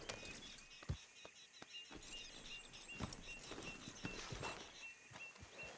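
Horse hooves clip-clop at a walking pace in Red Dead Redemption 2, a steady rhythmic series of close, crisp hoof strikes with faint ambient sound between them.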